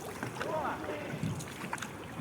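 A rowboat moves across open water with a soft steady wash and faint wind, while voices chatter quietly in the background.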